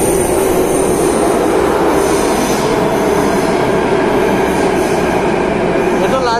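A metro train runs at a New Delhi station, a loud, continuous rumble of wheels and carriages with rail clatter and a faint squeal near the end.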